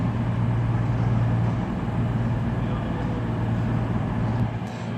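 A CrossCountry train arriving at Darlington station on the East Coast Main Line, a low steady engine rumble and rolling drone holding at a constant level, fairly close, with no voices.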